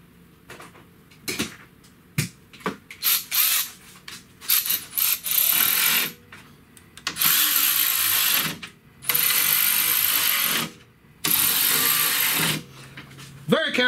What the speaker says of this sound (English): Very careful with these power tools.